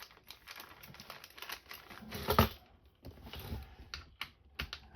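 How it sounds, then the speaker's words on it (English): A hand rummages through a bag of Allen wrenches, giving quick small metallic clicks, rustles and crinkles in an uneven stream, close and fairly quiet. "I'm going to get into my bag of Allen wrenches"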